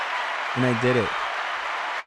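Applause sound effect played back as a stand-in live audience on a small talk show: steady, even clapping at moderate level, with a voice briefly speaking over it midway before the sound cuts off abruptly.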